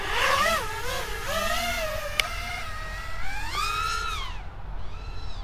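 Eachine Wizard X220S racing quadcopter on a 5S battery with Racer Star 5048 V2 props, a loud buzzing motor whine that swoops up and down in pitch as throttle changes, with a brief sharp click midway.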